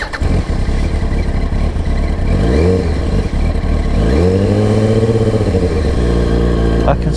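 Yamaha R1 motorcycle engine running rich, revved repeatedly from idle with rising and falling surges, loud and close, with a brief blip near the end.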